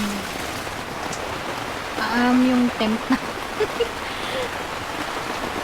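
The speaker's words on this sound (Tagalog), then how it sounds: "Ang lakas ng ulan ngayon." Heavy rain pours at night onto a campsite tent in Indang, Cavite, a dense steady hiss filling the whole clip while a person speaks briefly over it partway through.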